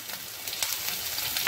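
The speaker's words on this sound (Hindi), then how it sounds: "अब तेल गरम हो गया है, इसमें अदरक का पेस्ट डालेंगे" Ginger paste sizzles in hot oil in a pan for an Indian egg masala curry, a steady close crackling hiss with small pops and a sharper spit at the end.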